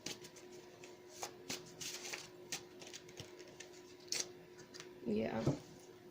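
Tarot cards shuffled by hand: soft scattered riffles and taps at close range, irregular and fairly quiet, with a longer flurry near the end.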